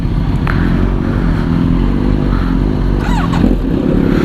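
A 2019 Kawasaki Z900 with a custom wrapped full-system exhaust idles steadily and close by, giving a loud, continuous low rumble with a slight rise near the end.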